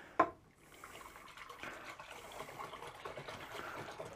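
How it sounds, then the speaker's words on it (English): Wort being stirred vigorously in a fermenter during home brewing of an extract bitter, a faint continuous swishing and sloshing of liquid after a short knock at the start, with no talk. "it does say stir vigorously for about 30 seconds"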